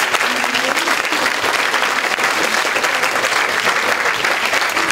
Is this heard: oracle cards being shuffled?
no